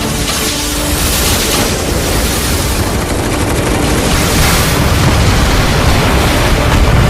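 A massive explosion in the video game Final Fantasy VII Remake Intergrade, a loud, sustained roaring blast with crackling debris and rumble filling the whole clip, no voices.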